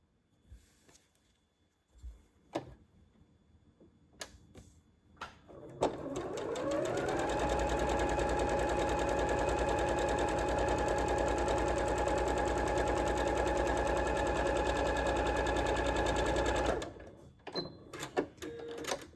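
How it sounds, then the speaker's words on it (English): A sewing machine stitches two dress pieces together for a handmade doll outfit, running in one steady, loud, continuous burst of about ten seconds, with quiet handling clicks before and after. "we're going to attach these two pieces like so and stitch along this line"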